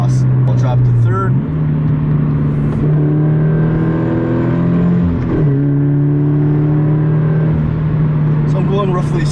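A Subaru BRZ fitted with an Invidia N1 exhaust revs and accelerates close by, its loud, steady engine note rising in pitch through the gears with brief dips at the shifts, while someone talks over it.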